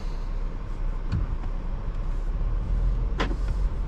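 A 2025 Volvo XC60 T8 plug-in hybrid moving off, low steady engine and road rumble from inside the cabin, with a couple of brief mechanical clicks and a sharp whoosh near the end.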